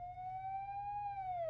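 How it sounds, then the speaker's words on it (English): A steady electronic alarm siren wails at one pitch that rises slightly and then falls, continuous and fairly loud over a low hum. "The alarm hit before anyone moved."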